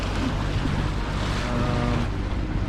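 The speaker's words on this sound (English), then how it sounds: "We've got, I don't know, okay wind." A sailboat heads into the swell off the coast north of San Diego, with a steady, loud rush of wind buffeting the microphone over the low wash of water and no voices.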